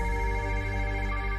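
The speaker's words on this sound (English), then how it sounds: "My phone starts ringing." A phone ringtone plays alone as a steady, sustained electronic tone with layered harmonics, fairly loud and unbroken for the whole moment.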